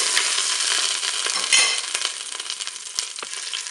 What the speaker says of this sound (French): vous pouvez faire dorer votre rôti sur toutes les faces